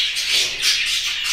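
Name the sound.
pet birds calling in an aviary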